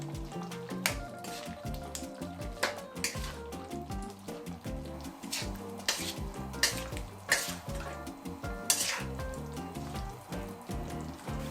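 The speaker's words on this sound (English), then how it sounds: "Add the meat and stir." Beef being stirred into a boiling coconut-milk rendang curry in a pot, a rhythmic run of wet squelches, liquid sloshing and spoon knocks against the pot, fairly close and quiet.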